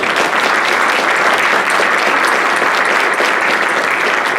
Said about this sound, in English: Please join me in giving a round of applause to Dr. Tischer.